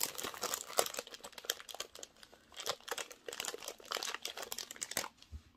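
Close plastic packaging of small watermelon-shaped scrapbooking stickers crinkles and tears open in bursts, quiet rustles separated by brief pauses.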